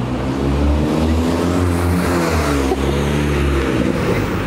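A Peugeot 206 RC accelerates hard past the listener, its engine revving loud and close as it climbs through the gears, then fades slightly toward the end.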